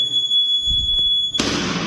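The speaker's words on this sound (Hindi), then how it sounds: "जुपिटर 125 के अंदर जो ज्यादा प्रैक्टिकलिटी में इनपुट दे रही है वो है जी साइड स्टैंड कट ऑफ का प्रॉपर सिग्नल एंड ये बीप जो है" TVS Jupiter 125 scooter's side stand cut-off warning beep, a single steady high-pitched tone that sounds for over a second before a sudden burst of broadband noise takes over.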